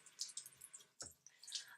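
Water runs from a sink tap to dampen a makeup sponge, a faint hissing splash in short spurts with a brief gurgling drop in the middle, close and quiet with no voices.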